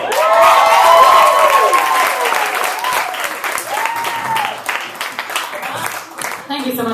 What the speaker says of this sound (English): Give a warm round of applause for Miss Allie Steele.